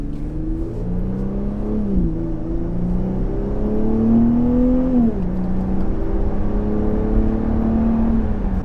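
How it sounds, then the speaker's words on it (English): A V6 Jeep Grand Cherokee fitted with an aftermarket exhaust hums steadily close by. Its low engine note rises and falls through a few gentle revs with no talking. "I have an exhaust on it, and it sounds fantastic. I think for a V6, it doesn't sound that bad"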